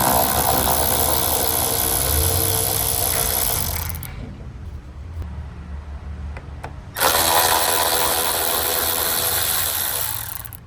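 A ratchet-type power tool whirs continuously while backing out T15 bolts on the tailgate of a 2021-or-later Chevrolet Tahoe, loud and close, cutting out for a few seconds before starting again.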